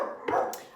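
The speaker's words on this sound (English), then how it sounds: "Sorry about that with my naughty dogs that have a tendency to woof at even a fly." Indoor dogs let out a couple of short, sharp barks in quick succession, close to the microphone and fairly loud, with brief yelping tones between them.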